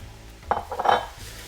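Spatula scraping and stirring fried rice with meat in a pan, a few clanking, scraping strokes over a low background hum, close and moderately loud.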